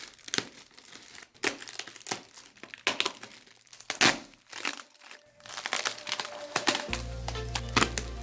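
Bubble wrap packaging pulled away from a commemorative collector's box, giving close, irregular bursts of crinkling and rustling plastic with sharp crackles, ending in a low hum.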